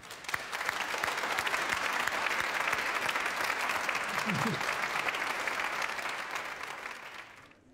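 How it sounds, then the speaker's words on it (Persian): A studio audience at a TV show breaks into sustained applause, loud dense clapping that swells quickly, holds steady for several seconds and then fades out. "تشویق کنید"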